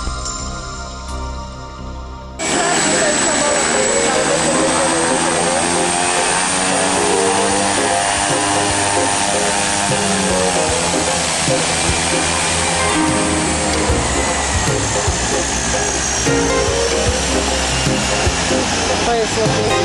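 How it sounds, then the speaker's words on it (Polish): A small seaplane's propeller engine drones loud and steady at an airfield, jumping to full roar after a quieter opening and holding a sustained, slightly shifting tone throughout. "Ciągle nas zachwyca ten mały wodny samolot."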